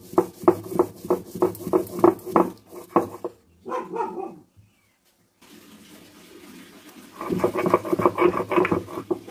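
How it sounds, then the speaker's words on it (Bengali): Mustard seeds ground dry on a traditional shil grinding stone make rhythmic, evenly spaced scraping strokes, close and fairly loud, in a steady run, then a break with near silence, then another run of strokes. "অনেক দিন পর শিলে বাটছি, শিলে শুকনো শুকনো করে বেটে নিলে জিনিসটা খেতে ভালো হয়"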